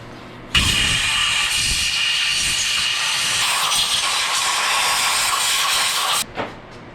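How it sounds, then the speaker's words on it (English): Compressed air blasts steadily into a bolt hole on a DeLorean during a clutch job, a loud continuous hiss that starts abruptly, holds for about six seconds, then cuts off with a brief puff. "get some compressed air in here and dry out this last little bit of"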